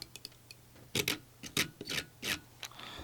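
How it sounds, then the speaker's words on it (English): A screwdriver strums freshly built NiCr90 vape coils on a Mad Rabbit atomizer, producing close, quick scraping and rubbing strokes that come in uneven short bursts, with faint ticks in the quiet stretches. "Now I'm just going to strum those coils with my screwdriver."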